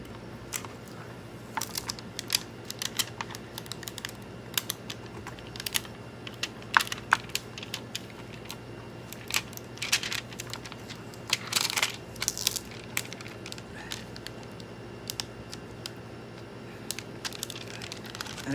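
Tape being peeled back from decor letters, a run of scattered crackly tearing bursts and small clicks, close and fairly loud, with no talking over it.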